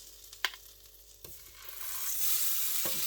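Meatballs frying in a pan, a soft sizzle that builds into a louder, hissing fry, broken by a few sharp clinks of a utensil against the pan.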